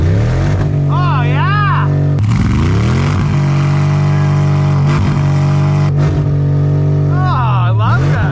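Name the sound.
Ford 7.3 Power Stroke diesel engine revved hard in -43F cold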